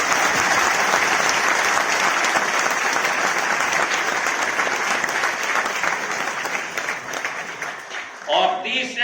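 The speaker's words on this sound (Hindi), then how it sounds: "अच्छी तरह से ताली बजाओ" A crowd claps loudly and steadily at an Olympics commemorative postage stamp release ceremony, a dense wash of applause that tapers slightly near the end as a voice begins speaking over it.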